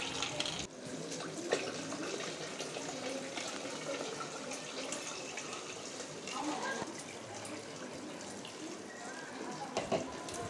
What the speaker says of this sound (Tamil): இப்போ fish tankல தண்ணிய ஃபில் பண்ணிக்கலாம்.